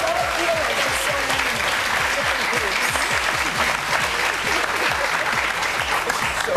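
A studio audience at a television talk show claps steadily and densely throughout, a loud, continuous wash of many hands with no break.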